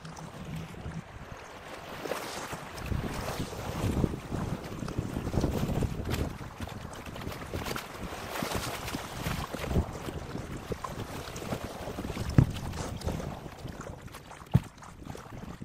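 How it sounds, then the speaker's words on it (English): Strong headwind roars steadily across the microphone on the Verde River during a kayak trip, broadband gusting buffeting with occasional louder bumps, close and continuous for the whole stretch with no talk. "we were struggling with harsh headwinds that kept us continuously paddling"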